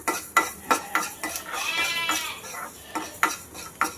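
Mustard seeds crackling and popping as they roast in a pan, with repeated sharp pops and spoon scrapes against the metal, close and fairly quiet.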